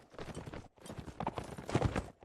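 Horse hooves clip-clopping in a video game during a competitive quarter-final match, a quick rhythmic run of hoofbeats with a short break, fairly close and moderately loud.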